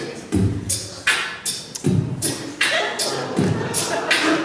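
A voice imitates a drum beat: deep kick thumps alternate with sharp snare hits, and crisp hissing hi-hat sounds fill the offbeats in a steady groove.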